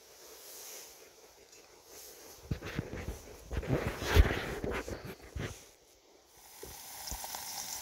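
Bacon sizzles and spits in a small camping mess tin outdoors, a soft steady frying hiss with crackles that intensify midway, fairly quiet and close.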